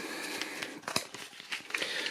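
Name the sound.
shuffling a deck of board game cards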